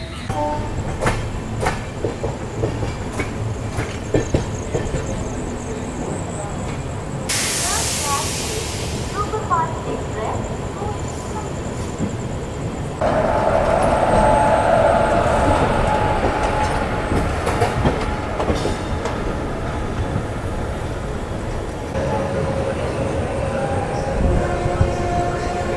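An express train running from Puri toward Kolkata, heard from inside the coach: a constant loud rumble and hiss of wheels on rails with clattering bursts and a shift in tone midway, and voices talking faintly in the carriage.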